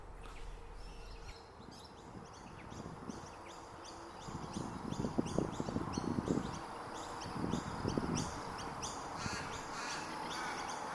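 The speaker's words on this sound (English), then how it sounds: "This, based on location, is most likely a little raven." Several harsh, nasal caws from a little raven repeat in uneven bursts, fairly close, over a steady background hiss, at Morang Wetlands near Melbourne, Australia.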